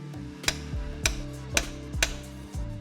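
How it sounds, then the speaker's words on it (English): Four sharp metallic hammer strikes on a chisel land at a steady, even pace, ringing briefly after each blow, while fitting detent pins in a BMW ZF transmission. "we're gonna take a hammer and a chisel"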